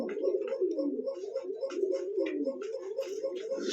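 Several pigeons cooing nearby in repeated, overlapping rolling calls, steady and fairly loud, with no talking over them.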